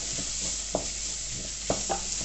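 Vegetables coated in chilli powder are stirred in a pan for a winter chilli, a steady sizzle running underneath with a few soft utensil scrapes standing out at intervals.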